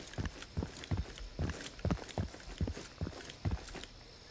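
Footsteps in the video game Incursion Red River, a steady run of distinct, evenly spaced heavy steps, moderately close and clear with no talking over them.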